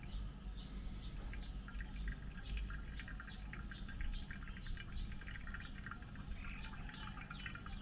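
Water trickles steadily onto coffee grounds in a pour-over brewer, a close, continuous dribbling pour with faint dripping and no voices.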